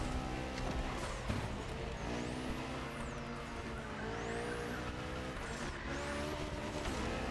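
A Peugeot 9X8 race car in The Crew Motorfest drones along with a steady, high-revving engine note, rising and falling through gear changes, fairly quiet and continuous with no voices.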